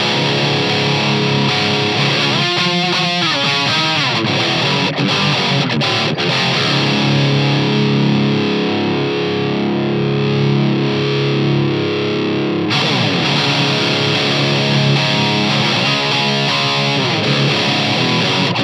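Electric guitar played through a Sherlock Fat Head amp on its brighter, higher-gain setting: loud, saturated distorted tone with sustained chords and quick picked runs, continuous throughout with a brief break midway.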